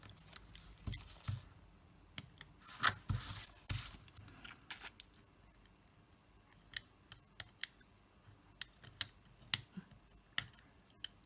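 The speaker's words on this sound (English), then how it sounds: "It's also not easy to get off double-sided tape off this die." Double-sided tape is picked and peeled off a metal foil die. Close-up crinkling and tearing bursts give way to scattered sharp clicks and scrapes as fingernails work at the sticky edge.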